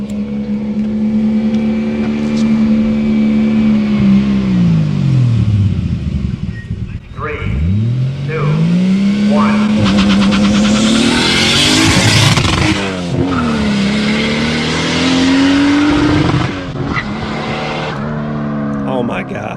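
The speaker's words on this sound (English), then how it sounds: "Let's hear that RB25 power." A Datsun 240Z fitted with an RB25 engine revs hard and pulls away, the engine note climbing and dropping through gear changes with tire squeal, loud and close throughout, with occasional voices under the roar.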